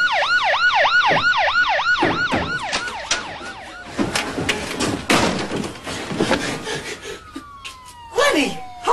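A wailing emergency siren cycles rapidly up and down, then fades as traffic noise, thumps and a second siren's long tone follow nearby.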